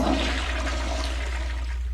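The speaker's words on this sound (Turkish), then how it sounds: "Buradaki sifonları çekince bir şey çıkabiliyormuş." Toilet flush in the Mr. Meat 2 mobile horror game, a loud steady rush of draining water filling the whole stretch with no one talking.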